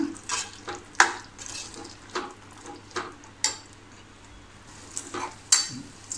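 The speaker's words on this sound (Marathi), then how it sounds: "थोडं परतून घेऊया" Ground masala paste and peas being sautéed in a pan, with intermittent spoon scrapes and clinks against the metal over a quiet, low sizzle.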